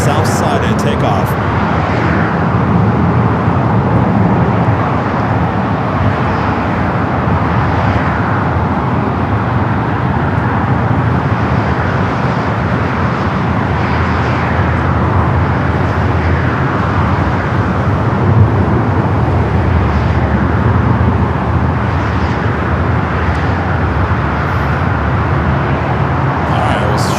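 An SAS Airbus A330 airliner at LAX airport gives a steady, broad engine roar with distant traffic rumble, continuous and fairly loud, while someone talks over it.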